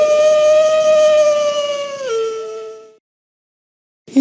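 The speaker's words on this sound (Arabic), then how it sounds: "ذئب" A single wolf howls in one long, loud, clear tone that drifts slowly downward and then cuts off, followed by a brief pause of silence.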